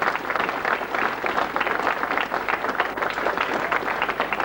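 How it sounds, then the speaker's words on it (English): A room full of people applauds at a 1991 Vauxhall Astra launch event held by a car dealership in East Grinstead; dense, continuous clapping sustained at an even level for several seconds, with no talk over it. "A round of applause please"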